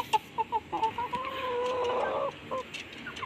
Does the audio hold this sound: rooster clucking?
yes